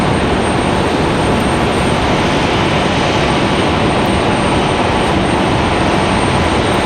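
A Southwest jet flies near Raleigh-Durham airport on approach from the south. Its broad, loud, continuous engine roar holds steady throughout, with a faint high whine on top.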